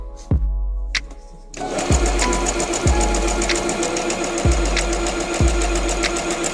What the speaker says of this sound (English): Sampling different stitches on this really cool Singer